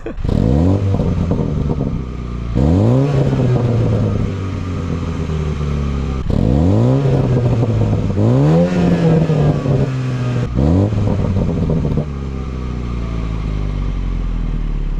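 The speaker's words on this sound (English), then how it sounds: "I'm going to put it in sport mode, and we're going to have a listen to the pops and bangs that it makes." An F56 Mini Cooper S in sport mode revs repeatedly, each loud rising engine pull falling off into crackling exhaust pops and bangs, close and continuous over several cycles.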